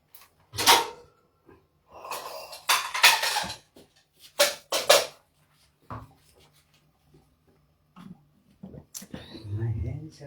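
Plates and dishes clatter in a home kitchen while crispy chicken is being prepared, several sharp clinks and knocks coming in bursts amid close, quiet speech and whispering.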